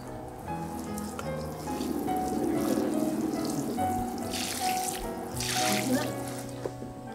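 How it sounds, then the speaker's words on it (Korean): Water is poured into a deep hole dug in garden soil for planting roses, making a soft, steady splashing trickle over gentle background music. "구덩이를 깊게 판 뒤 물을 부어 땅을 촉촉하게 만들고 장미를 심었어요"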